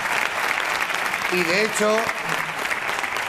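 A studio audience on a Spanish television comedy show claps in a sustained wash of applause while someone speaks briefly over it.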